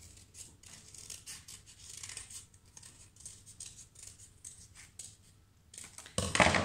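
Scissors snip through paper for a kids' totem pole art project, a steady run of crisp close cuts ending in a louder rustle of paper being handled.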